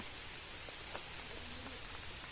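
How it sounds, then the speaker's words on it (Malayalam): Heavy rain falls steadily in a rural village, a dense even hiss with scattered faint drips and patters, no voices. "ഇതാ മഴ നല്ലോണം പെയ്യുന്നുണ്ട്"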